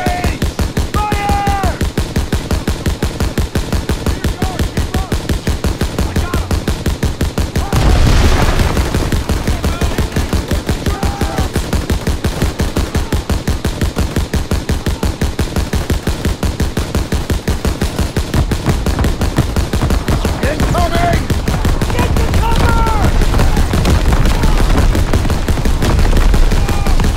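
Sustained automatic gunfire rattles without pause in a Call of Duty WWII Death Factory battle, loud and dense throughout, with a heavier burst partway through.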